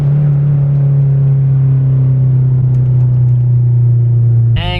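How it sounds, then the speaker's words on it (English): A Mazda Speed 6 engine droning loud and close at steady revs from inside the car, ending with a sudden burst of sound as it downshifts. "Let's hit some downshifts here."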